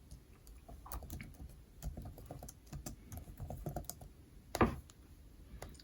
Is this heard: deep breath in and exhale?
no